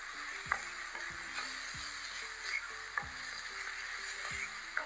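Ginger garlic paste and chopped chillies fry in a pan with a continuous hiss. Low tonal stepped tones and occasional thumps from stirring come through a constant sizzle, with no talking.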